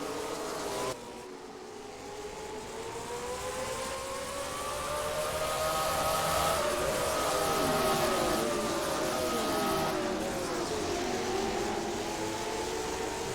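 Late model race cars at Auto City Speedway make a sustained, rising and falling engine drone, with several motors overlapping as they pass and the pack holding a steady loud roar throughout.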